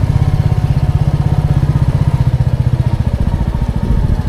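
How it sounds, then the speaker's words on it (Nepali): A motorcycle rolls slowly through the village of Marpha, its engine chugging in a steady, close, low-pitched pulse at low speed, with no voices over it. "गाउँ मोटर बाइक गति 10 मात्र है गाइस 10 को स्पिडमा चलाइदिनु होला"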